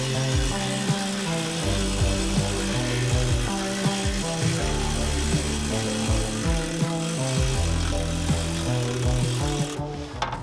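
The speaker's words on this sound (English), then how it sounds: "it uses the air hammer to push against the metal and cause it to stretch" A pneumatic air hammer pounds and stretches sheet metal for a car patch panel in rapid, steady repetition, loud and close, cutting off briefly near the end.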